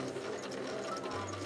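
A sewing machine runs steadily in a children's sewing class, a continuous mechanical whir with a fast rhythmic chatter, close and fairly loud.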